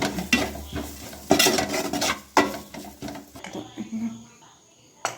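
A utensil scrapes and stirs boiled chicken in a pot in short, uneven strokes, with light clinks and a faint sizzle underneath.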